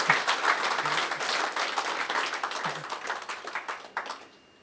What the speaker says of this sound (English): You can have a round of applause